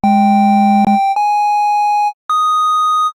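Synthesizer tones built from a triangle wave for a pluck sound: a low held note gives way to two clean sustained notes stepping upward in pitch, loud and alone with no voices.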